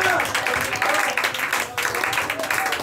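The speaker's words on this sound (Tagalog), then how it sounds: "Yung palakpak." A church congregation applauds steadily during worship, a dense, continuous patter of many hands clapping at close range, with voices mixed in throughout.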